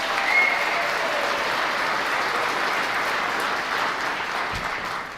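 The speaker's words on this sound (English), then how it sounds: "Let's give him a round of applause." A round of applause at a robotics company event in Auburn Hills, a loud, steady wash of crowd clapping that stays even and fills the whole stretch, tapering slightly at the end.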